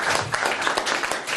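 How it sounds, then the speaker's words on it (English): Participants at an NLP and hypnosis practitioner course applaud together, a short dense run of clapping with quick sharp hand strikes, fairly close and loud, filling the whole moment. "Open your eyes, give them a round of applause."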